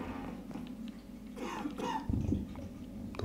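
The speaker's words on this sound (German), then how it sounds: "Da hustet wer?" Someone nearby coughs a few times in quick succession over a low background hum, moderately loud and brief.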